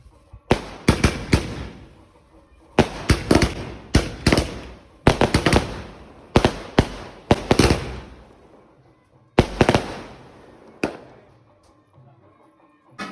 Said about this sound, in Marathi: चला लावा फटाके.